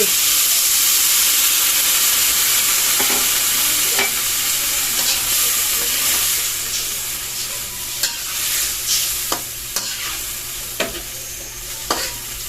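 Green beans and fish sizzle and steam in a hot pan with added water while a spatula scrapes and taps now and then, close-up hiss softening partway through.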